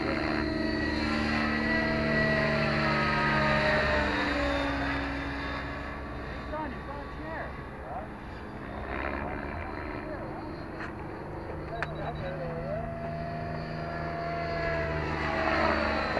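A radio-controlled 700-size model helicopter flies overhead with a steady, loud rotor and motor whine that rises and falls in pitch as it moves around, under ongoing outdoor chatter.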